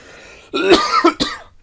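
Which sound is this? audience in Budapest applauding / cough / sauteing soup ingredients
cough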